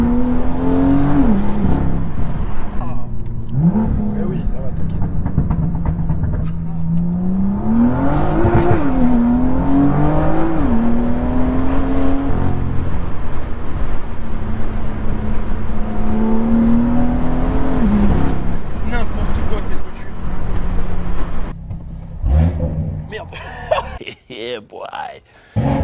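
A BMW M2 tuned to Stage 2+ with about 500 hp accelerates hard. The engine note climbs through the gears in repeated rising sweeps, close and loud, with voices talking and laughing over it.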